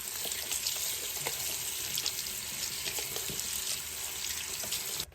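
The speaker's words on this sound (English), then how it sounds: "Just going to clean that with soap as well." A plastic tray washed with soap under a running tap, a steady loud rush of water from the faucet with faint rubbing and splashing, alone and continuous until it cuts off at the end.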